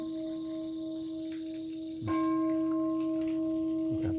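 A bell at Ubol Ratana Dam in Thailand rings out, its struck tone sustaining and humming, with a second louder strike midway that rings on steadily.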